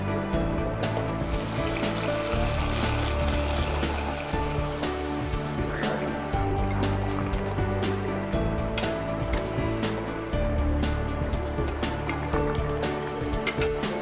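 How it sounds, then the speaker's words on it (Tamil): Hot oil tempering of dried red chillies, mustard seeds and curry leaves poured into Travancore-style kootucurry, a busy crackling sizzle with sharp pops and spits close up, continuing steadily without speech. "இப்போ இதை தாளித்து ஊற்றிக்கலாம்."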